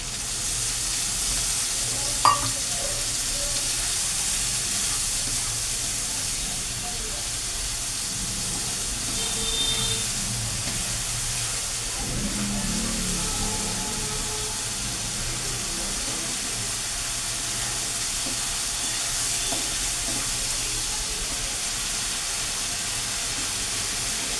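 A spice paste of Kashmiri red chili, cumin and fenugreek sizzles in a hot pan, a steady bright frying hiss with faint scrapes of stirring and a light clink near the start, close and continuous with no talk.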